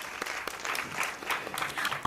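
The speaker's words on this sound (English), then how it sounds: "give Dr. Melinda Swoop, the Vice President of Student Affairs and Enrollment Management, a round of applause" Brief round of applause from an audience at the Miss Alabama State University coronation, a moderate, somewhat distant wash of clapping that swells slightly toward the end.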